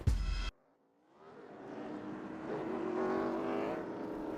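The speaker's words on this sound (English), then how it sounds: "Our historic stock car racing machines have made their way out onto the track" Historic stock car racing machines roar on track at Road Atlanta, a sharp burst at the start giving way after a short pause to a growing, sustained engine drone from cars at some distance.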